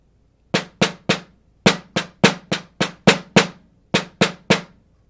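Crisp concert snare drum tenuto strokes, each held with a full ringing tone, played alone in small uneven groups with short pauses between.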